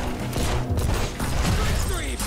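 A rapid-fire pistol upgrade shoots in the indie looter shooter Solomon Snow, a fast near burst of gunfire with mechanical clatter and game effects, with a voice speaking over parts of it.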